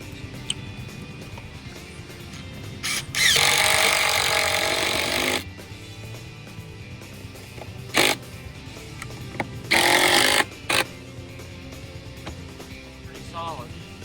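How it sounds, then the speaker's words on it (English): Power driver sinking big screws into a bulkhead timber, with a long loud whirring burst, a short sharp hit, then another sustained burst, separated by quieter stretches of outdoor background and someone talking. "Put some big screws in here and we'll hold it all together."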